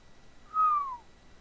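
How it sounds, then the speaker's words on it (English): A single sharp whistle sweeps downward, lasting about half a second and fairly clear against a quiet background. "That was a very sharp whistle."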